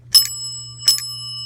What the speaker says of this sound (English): And a Houghton bell.